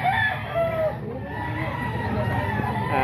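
Several roosters crow and cluck amid the constant background bustle of a chicken market, the calls overlapping at moderate distance with no clear speech.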